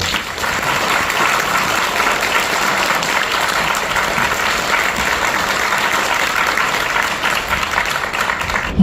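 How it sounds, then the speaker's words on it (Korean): A lecture audience at a political talk gives sustained applause to welcome a speaker, a thick, even roar of many clapping hands heard loud and alone, with a faint low rumble underneath. "큰 박수 부탁드립니다."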